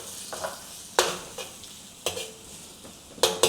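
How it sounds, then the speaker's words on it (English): Garlic, ginger and the white part of green onion sauté over low heat in a wok, giving a soft steady sizzle broken by several sharp stirring scrapes of a utensil against the pan. "I'm going to use it to saute the garlic, ginger and the white section of the green onion."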